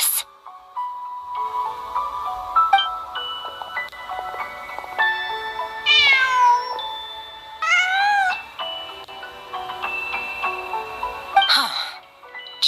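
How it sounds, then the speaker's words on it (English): A cat meows in Genshin Impact, several drawn-out rising and falling calls over steady game music and ambience, moderately close. "Just a cat."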